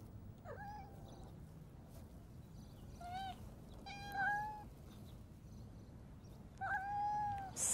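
Several separate kitten meows, high and rising, come over a steady low background hum, each call short and moderately close, with a pause between them and the last two the loudest.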